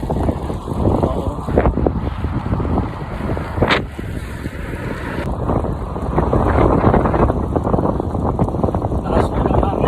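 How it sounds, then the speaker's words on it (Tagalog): Strong wind buffets the microphone during a motorcycle ride on a Sunday group trip, a loud, continuous low roar with gusty surges, while voices come through faintly underneath. "Lakas mo ng hangin."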